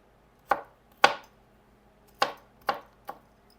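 A knife chops onion into tiny pieces on a board: five sharp, separate knocks with irregular gaps, close and clear in a quiet room.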